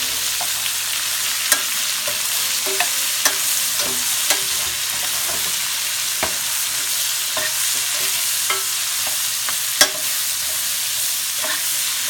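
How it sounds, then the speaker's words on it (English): Red and white onions sauteing in a pan for a pot roast, with steady stirring scrapes and soft clicks of a utensil over a gentle background sizzle, moderately close and without talk. "And saute your onions."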